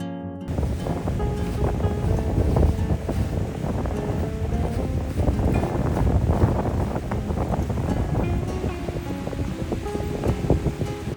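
Strong wind roars across the microphone alongside constant surf breaking on a beach at a seaside campsite at Hat Kaeo, Phetchaburi, a dense, steady wash of noise with no voices.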